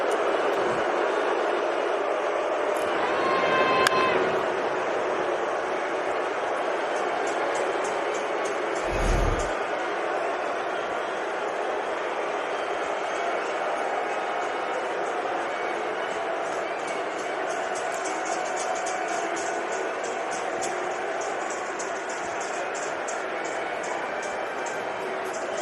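A baseball stadium crowd cheers as Carlos Correa comes up to bat in an Astros vs Dodgers game, a steady dense roar with broadcast commentary talking over it.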